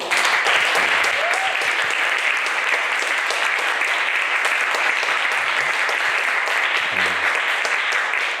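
Steady applause from a church congregation following a baptism during a Sunday Christmas Eve service, sustained and even throughout with a few faint voices underneath.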